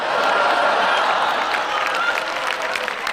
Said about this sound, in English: All the single men, please clap really quick